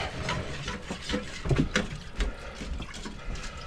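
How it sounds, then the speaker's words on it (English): A whisk stirs macaroni cheese sauce in a pot, producing wet, liquid clinks and scrapes in irregular bursts, close and moderately loud. "And I shall go in with my whisk."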